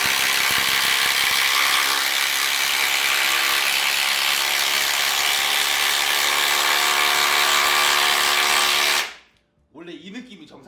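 A Kyocera 230 Nm impact driver on a DeWalt battery hammers continuously for about nine seconds, a loud, dense rattling buzz, then cuts off abruptly and a voice begins speaking.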